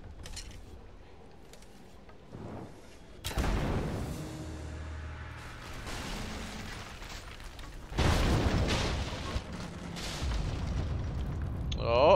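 An explosion in the video game Rise of the Tomb Raider hits as a sudden deep boom, and a rumbling roar follows it. A second loud burst comes several seconds later, with crackling debris over a sustained low rumble.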